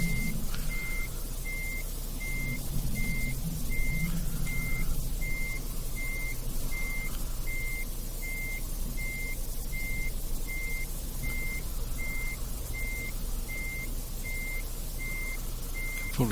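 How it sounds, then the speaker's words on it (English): Repeated reversing beeps from a truck in Euro Truck Simulator 2 sound at a steady rhythm for the whole stretch, over a constant low engine hum as the truck backs up to a trailer, with no talking. "reverse back to the trailer"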